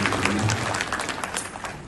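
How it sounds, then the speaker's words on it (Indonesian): A seated audience at a school parents' gathering in Indonesia claps together in a short, dense burst of applause that fades toward the end. "Tepuk tangan buat kita semua."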